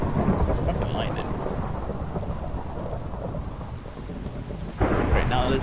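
A Minecraft thunderstorm brings constant rain and rumbling thunder, with a sharp louder crack near the end. The storm sounds close and loud, and a few faint game noises show through the wash.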